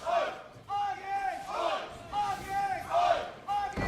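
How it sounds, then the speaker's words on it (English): An esports arena crowd at an EU LCS 2018 Spring Split match between Schalke 04 and Splyce cheers and chants in rhythmic, repeated bursts of massed voices, filling the hall from moderately near. "The crowd feeling it."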